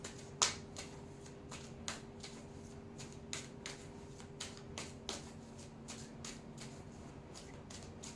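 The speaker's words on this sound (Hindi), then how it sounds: "मैं जो हूँ वो इन कार्ड्स को शफल करूँगी" A deck of tarot cards is shuffled by hand. Quiet, crisp riffles and snaps repeat at an uneven pace against a faint steady hum, with no talking.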